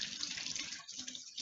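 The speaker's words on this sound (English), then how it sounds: "And then I'm gonna turn my water on." A sink faucet runs in a steady, close stream of water splashing into the basin, continuous with slight flutter and no voices over it.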